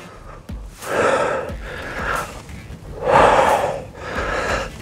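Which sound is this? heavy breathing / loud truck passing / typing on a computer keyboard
heavy breathing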